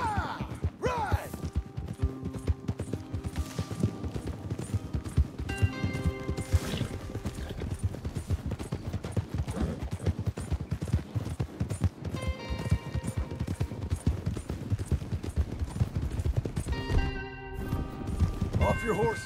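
Horses ridden at a trot in the Western video game Red Dead Redemption, with steady clip-clopping hooves running throughout, a neigh early on, and character voices and music on top.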